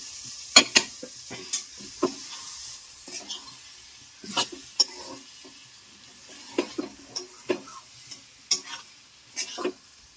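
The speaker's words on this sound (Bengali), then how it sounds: "এবার এই আলু পটলটা দিয়েও আমি ভালো করে কষিয়ে রান্না করবো।" Pointed gourd and potatoes fry in a pan with a steady soft sizzle, broken by repeated scraping and clinking strokes of a spatula as the vegetables are stirred close by.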